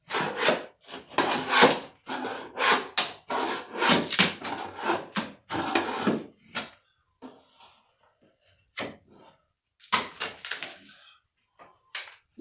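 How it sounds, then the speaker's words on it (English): Wooden trim is pried and pulled off a bedroom wall during demolition, producing a dense run of close, loud scraping, rubbing and cracking bursts for the first half, then sparser, quieter knocks and rasps with pauses. "I'm going to go ahead and pull that trim down up on the top there"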